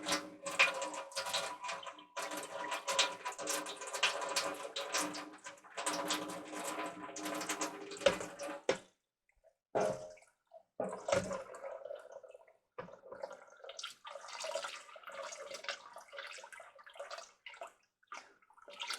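Rice being rinsed by hand in water in a rice cooker pot, busy close sloshing and swishing with gritty grain rubbing, a brief pause midway, then quieter swirling.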